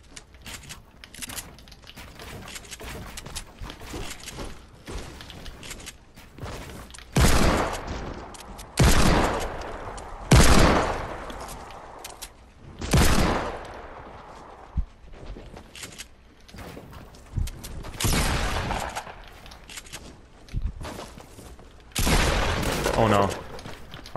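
Heavy shotgun blasts in the Fortnite video game, a handful of loud booming shots spaced several seconds apart with scattered smaller gunfire and game noise between them.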